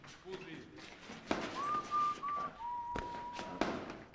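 Someone whistles Beethoven's Fifth Symphony in a few clear, sustained notes, with soft thumps and taps around the tune.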